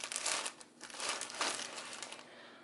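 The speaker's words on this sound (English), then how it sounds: "And then I would slide it inside of a plastic bag." A plastic zip-top bag crinkles and rustles loudly up close as a wig is slid inside it for packaging, with continuous irregular crackling throughout.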